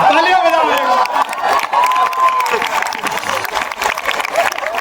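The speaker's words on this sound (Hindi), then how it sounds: "तालियां बजाओ।" Festival audience at the Meerut Mahotsav breaks into applause and cheering, a dense continuous roar of clapping and voices with a sustained tone from the crowd, loud and close throughout.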